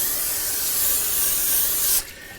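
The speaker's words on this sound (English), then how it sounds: "I'm going to take some cooking spray and hit that pan with it and the parchment paper." Cooking spray hissing steadily from an aerosol can onto a pan lined with parchment paper for a fruitcake, a continuous close spray lasting about two seconds before cutting off abruptly.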